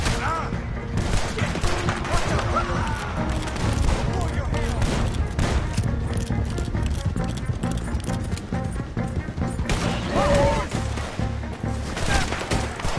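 Gunfire and horse hooves clatter through a tense Red Dead Redemption 2 shootout, with dense bursts of shots over a continuous wash of game action and shouting voices throughout.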